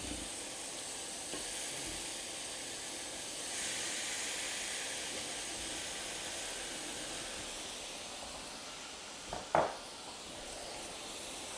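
Shrimp cook in a hot pan for a Cajun stir fry, producing a broad, continuous sizzling hiss that holds steady throughout, with a brief clatter of stirring near the end.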